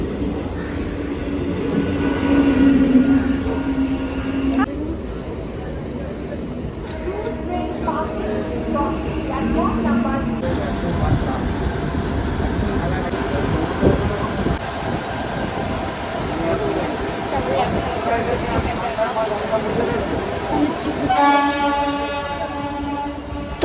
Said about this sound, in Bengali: কিছুক্ষণ ওয়েট করার মধ্যেই আমাদের ট্রেন কিন্তু একদম চলে এসছে